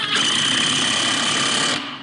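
A power drill drives a screw into a soft wood wall shelf in one loud, continuous whirring burst of nearly two seconds that stops abruptly.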